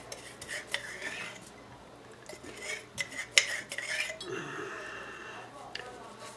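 Copper and lye powder being stirred in a container, with scraping, clinking and gritty rasping strokes in irregular bursts, close and moderately loud, while a person talks.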